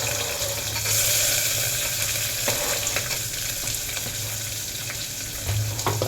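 Chopped onion with green chilli sizzles steadily in hot oil in a pan for a plain chapathi side gravy, a dense continuous frying hiss with occasional light scrapes and clinks, close and without talk.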